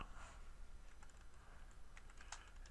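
Faint keystrokes on a computer keyboard while entering a command in a terminal, a few scattered clicks over a steady low room hum.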